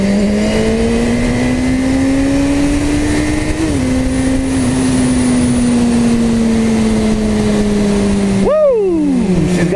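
A BMW motorcycle engine running steadily while riding: a loud, continuous tonal drone that shifts in pitch slightly, then rises in a sharp rev before settling, with no talking.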